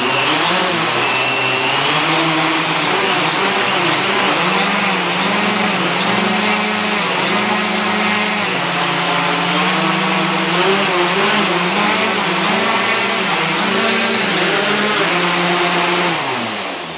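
Electric motors of a multirotor drone with an APM 2.5 flight controller whine steadily up close, their pitch wavering and pulsing as the throttle rises and falls.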